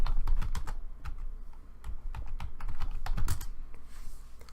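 Rapid typing on a computer keyboard, close and loud, a dense run of irregular key clicks and clacks continuing without pause.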